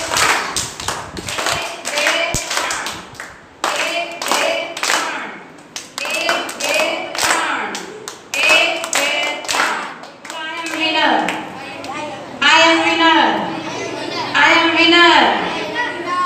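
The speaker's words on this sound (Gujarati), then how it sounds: "ચલો તાળી પાડો" Children at a summer camp clap their hands in a quick, uneven burst of many sharp claps, close and loud, with an adult and children talking over and between the claps.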